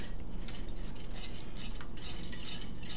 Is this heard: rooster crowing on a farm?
no